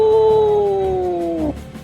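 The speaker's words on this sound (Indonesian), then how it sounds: "disusul oleh suara lolongan panjang seperti raungan serigala" A single long wolf-like howl used as an audiobook sound effect, a sustained tone that glides slowly downward for about a second and a half before cutting off abruptly.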